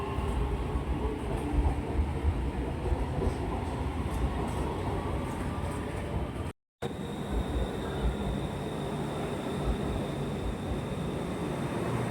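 An elevated BTS Skytrain rolls by Chit Lom station in Bangkok with a steady, broad rushing roar and faint rail clatter, continuous throughout apart from a momentary dropout.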